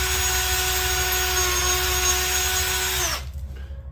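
A power drill with a 15/64-inch bit runs steadily at high speed during a Honda B18 engine rebuild, a continuous whine that cuts off abruptly near the end as the motor winds down.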